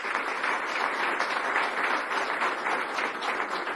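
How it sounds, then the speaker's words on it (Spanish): Members of an industry federation's board of directors receive applause at a business expo in Venezuela, a continuous, even wash of many hands clapping from a large seated audience. "un aplauso a ustedes"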